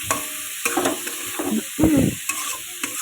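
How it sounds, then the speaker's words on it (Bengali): Spatula stirring a thick spice paste as it fries in a pan for a spicy tengra fish curry, giving repeated scraping strokes over a soft, steady sizzle, close and fairly loud. "দিয়ে ভালো করে এটা নাড়তে থাকতে হবে ভালোভাবে নাড়তে হবে যাতে পুড়ে না যায়"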